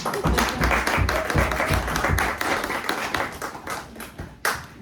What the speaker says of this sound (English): Can we give sweet Doughboy a sweet, gentle round of applause?